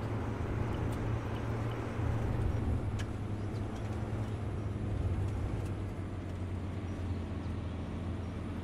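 An American military truck engine from the video game Arma 3 idles and runs with a steady low rumble, loud and close throughout, with a faint hiss and a few brief clicks over it.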